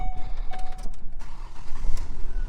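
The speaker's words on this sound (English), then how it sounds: "we're going to start the car" A car engine starts with the headlights on during electrical diagnostics. A close, loud low rumble swells and pulses as the engine turns over and catches, with no talk.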